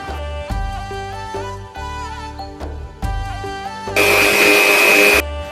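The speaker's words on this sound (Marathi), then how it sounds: "आता हे मी मिक्सरला लावून घेते." A kitchen mixer grinder blends a crab curry masala for a Malvani crab gravy, with a steady motorized whir that stops and restarts in pulses, then a loud, harsh grinding roar near the end, close and alone.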